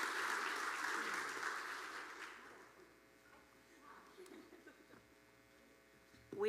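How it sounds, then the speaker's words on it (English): A high school honors night audience claps; the broad wash of applause is loudest at the start, then fades within a few seconds to a quiet room hum. "So that deserves a round of applause."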